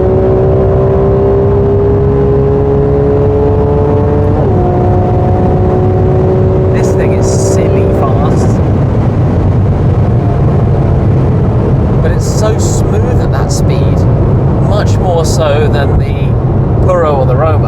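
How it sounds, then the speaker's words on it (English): A Ferrari 12Cilindri's V12 drones on the autobahn with steady, shifting engine tones, then a rougher, louder rush of engine and road noise, with people talking over it throughout. "now that it's dry, we can have some V12 screams"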